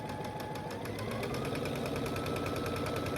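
A sewing machine stitches quilt pieces in a loud, close, continuous rapid whir with an even mechanical rhythm and no pauses.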